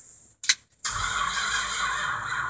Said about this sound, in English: Okay, I'm gonna try cranking now.